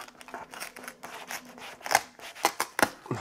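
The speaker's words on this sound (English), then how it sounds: "I'm just going to remove it with scissors" Scissors snipping through material at a 3D printing workbench, several crisp cuts that grow sharper and louder toward the end, with faint rustling between them and no voices.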